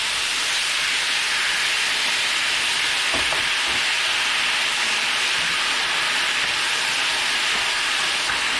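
Beef and asparagus stir-frying in a hot pan, seasoned with ground pepper, give off a loud, steady hiss and sizzle with no pauses and no voices.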